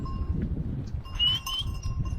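A herd of goats in a Himalayan valley bleats with high, wavering cries over a steady outdoor rumble, with a faint bell-like clink now and then.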